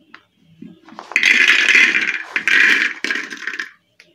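Dry rajma kidney beans pouring into a pressure cooker, a dense rattling clatter in several bursts with brief gaps, close and fairly loud, preceded by a few faint knocks.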